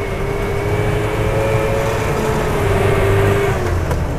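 A Land Rover fitted with FiTech fuel injection drives slowly in third gear through town. Its engine gives a steady, loud, close drone with a faint whine, and the level stays even throughout.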